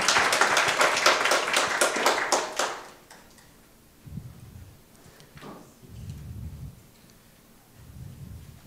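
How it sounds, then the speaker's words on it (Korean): Audience at a startup forum claps briskly for about three seconds, a close cluster of hands that fades out, followed by quiet room noise and low thumps. "박수 부탁드리겠습니다"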